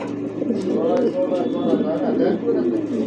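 Show pigeons such as Lahori and show king birds coo in low, continuous rolling murmurs close by, while someone talks over them throughout.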